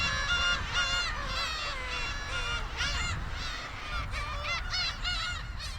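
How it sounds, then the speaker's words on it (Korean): A dense flock of black-tailed gulls calling over one another on Dokdo, harsh mewing and honking cries overlapping continuously, loud and close. "독도 하늘을 가득 메운 괭이 갈매기 떼다"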